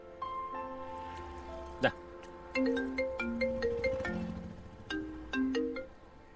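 A phone ringtone plays an electronic melodic tune in repeated bursts, fairly clear and close, announcing an incoming call, with a sharp click partway through.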